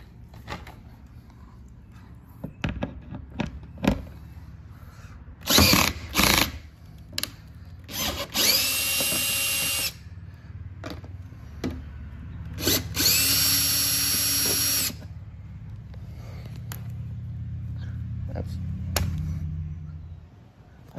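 A cordless power tool removes a row of bolts from the front air dam of a Ford F150 pickup, with repeated short whirring bursts and two longer high-pitched runs between pauses and small clicks, loud and close.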